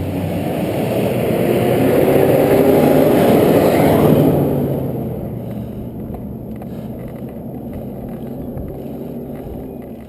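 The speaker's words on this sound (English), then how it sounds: "I hear a car behind me" A car on a hill road comes up from behind, its engine noise swelling to a peak and then fading as it passes, with steady background noise after and no talking.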